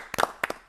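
News studio hosts give a few close hand claps celebrating a successful Nuri rocket launch, three short bursts of clapping separated by brief gaps, with no talk.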